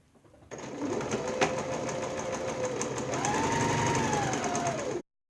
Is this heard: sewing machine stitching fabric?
yes